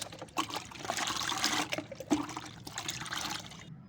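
Orange peel fertilizer stirred into about five liters of water: close sloshing and trickling liquid, continuous with irregular splashes, fairly quiet.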